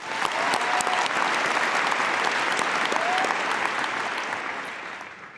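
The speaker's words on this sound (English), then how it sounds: "Let's give them another round of applause." A large keynote audience claps in sustained, dense applause that holds steady and then fades toward the end, with no speech over it.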